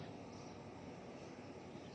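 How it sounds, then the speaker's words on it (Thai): An airplane passes over a rural Thai village near homes and a cucumber patch, a steady broad engine roar held at an even level throughout, with no voices over it. "ดูเครื่องบินก่อน"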